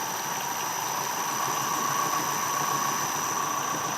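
Steady mechanical whine and hum of an asynchronous generator being driven to feed power to the grid, a constant near drone with high tonal whistles that swells slightly as it is sped up.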